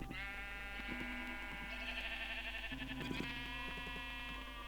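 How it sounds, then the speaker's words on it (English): Sheep in the video game Minecraft (Feed The Beast modpack) bleat in a long wavering, strained cry, then another overlapping call, moderately close over a constant low electrical hum. "bloody sheep sound possessed"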